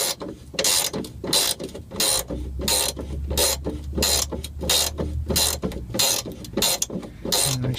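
A hand ratchet wrench loosens a bolt on a vehicle's suspension near Sumo Springs, giving rapid, close, repeated clicking bursts in an uneven rhythm with no speech.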